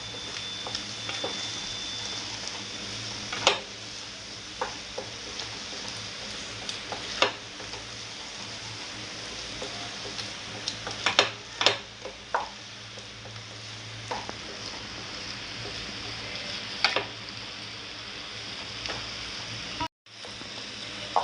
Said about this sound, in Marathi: अंड व्यवस्थित मिक्स करून घेऊया आपण